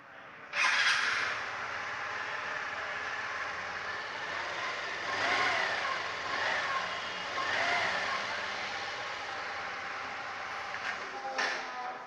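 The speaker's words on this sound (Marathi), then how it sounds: "तुम्हाला स्टार्ट पण करून दाखवतो गाडीचं" A Hero Xoom 125 ZX scooter engine starts and idles indoors in a showroom, with a sharp start followed by a steady, moderately loud running hum that swells slightly a few times before a brief blip near the end.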